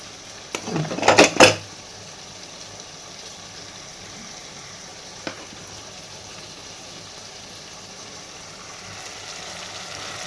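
A utensil clatters and scrapes as cooked rice is stirred into frying spices in a pan for about a second, then a single tap, followed by a faint, steady sizzle with no talking.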